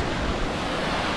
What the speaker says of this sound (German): Begleitung von diesem tollen Rauschen der Tottenauer Wasserfälle